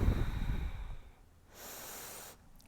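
Breathing during a seated chair yoga stretch: a loud, close breath in the first second, then quieter air with a soft hissing exhale near the end.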